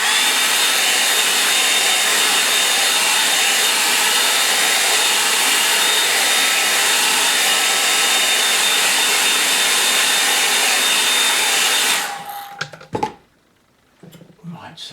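A hair dryer blasts steadily to dry paint on a painting, a loud, continuous whooshing hum for about twelve seconds before it cuts off, followed by a few faint knocks and clatters.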